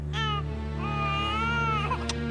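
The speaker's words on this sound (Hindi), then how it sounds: "तेरा बच्चा रो रहा है।" An infant cries in short wailing bursts over a steady low hum, fairly faint and somewhat distant.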